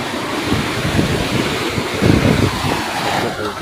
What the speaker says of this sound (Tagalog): Laki talaga yung alon dito guys.